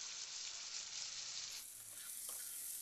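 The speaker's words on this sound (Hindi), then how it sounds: "इसको अच्छे से ऑयल छोड़ने तक पूरा अच्छे से फ्राई करना है ताकि कच्चापन ना रहे" A paste of ginger, garlic and chillies fries with taro (arbi) in oil, a soft continuous hiss of sizzling that shifts slightly midway, faint and steady with no voices.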